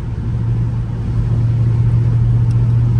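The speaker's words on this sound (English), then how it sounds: "Y'all just enjoy me just driving on that highway right now" Dodge Scat Pack cruising on a highway, a loud, steady low engine drone mixed with road and wind noise from inside the car, holding an even level throughout without any clear revving.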